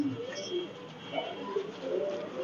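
Soft, low pigeon cooing repeats a few times close by, with faint background hum and no talking.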